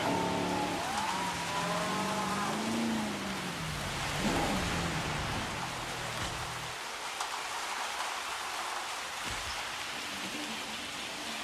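Steady rain hiss fills the scene throughout in the video game Jurassic World Evolution, with a low jeep engine hum and a few tonal electronic sweeps in the first half.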